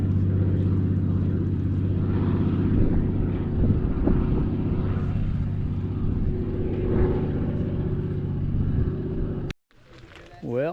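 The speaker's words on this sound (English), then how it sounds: "So the float plane we saw land now just took off." A float plane takes off on Washington Harbor at Isle Royale, Lake Superior, its engine a sustained steady drone with wind buffeting the microphone, ending in a sudden cut and brief rustle.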